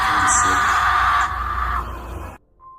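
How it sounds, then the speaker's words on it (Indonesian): A woman screams in a sustained, loud, strained cry during a horror film scene, with the voice fading toward the end. "Dia berlari ke tengah hutan dan berteriak."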